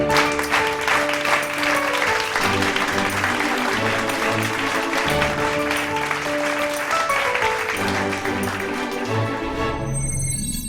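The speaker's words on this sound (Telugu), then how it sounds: "క్లాప్స్" Steady audience applause in a hall after a Telugu speech about the state of India, dense and loud throughout, with music-like tonal layers beneath the clapping.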